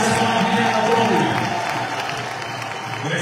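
Audience applause at a gathering of the Congolese diaspora in Belgium, a broad roar of clapping and crowd noise that starts full and eases off slightly toward the end, with some tonal sound mixed underneath.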